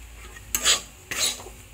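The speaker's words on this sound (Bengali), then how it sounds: "এইভাবে সুজিটাকে লাল লাল করে ভেজে নিতে হবে আলু আর পেঁয়াজের সাথে" Semolina fries in a pan with potato and onion while a spatula scrapes and stirs through it, two distinct sizzling stirring strokes standing out close and loud over a low background hiss.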